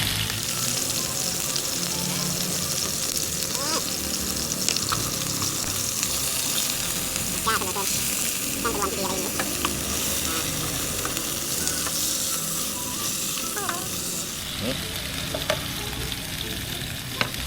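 Beef frying in butter in a pan, a sustained crackling sizzle throughout with scattered utensil scrapes and light clinks, close and fairly even in level, no voices.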